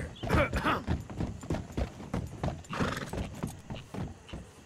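Steady clip-clop of horse hooves with a brief whinny, close and fairly loud, under some talking in the video game Red Dead Redemption 2.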